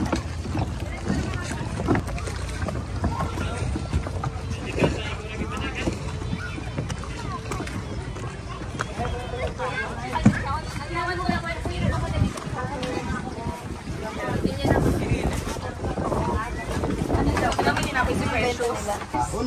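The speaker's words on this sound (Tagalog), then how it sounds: "And here's our bangka." Steady outboard engine drone of a small bangka outrigger boat on open water in Eastern Visayas, Philippines, with wind buffeting the microphone and voices talking faintly underneath.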